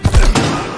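A brief, heavy burst of close gunfire in Call of Duty WW2, deep thudding shots running together for under a second, loud and alone.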